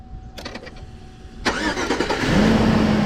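A GMC Yukon engine is started with the key: a few ticks and clicks, then the starter cranks and the engine catches, settling into a steady idle with a rising whine, close and fairly loud.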